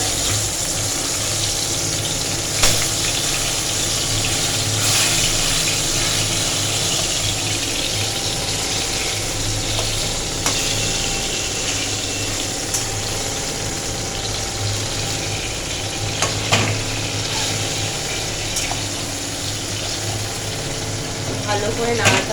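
Eggplant fries in a pan with hing and is stirred, giving a continuous low sizzle and hum with occasional scraping clicks, heard at a steady level throughout.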